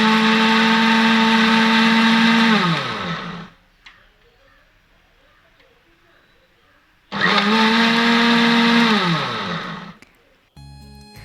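A mixer grinder with a small jar whirs loudly for a few seconds grinding bread into crumbs and winds down, goes quiet, then runs again in a second loud burst.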